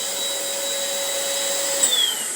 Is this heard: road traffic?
no